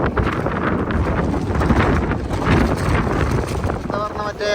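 Strong sea wind on a boat off the coast of Portugal roars and buffets the microphone steadily and loudly from start to finish, with a voice faintly present beneath it.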